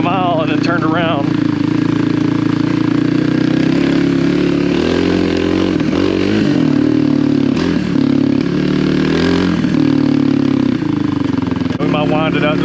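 A Kawasaki KLX300R dirt bike being ridden, its engine a loud steady drone that rises and falls as the throttle changes, heard close up the whole time while a rider talks over it.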